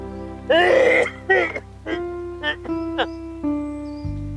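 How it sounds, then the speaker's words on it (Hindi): A person coughs and clears their throat several times in rough bursts, close by, over a steady background hum. "कितना खांसते हो?"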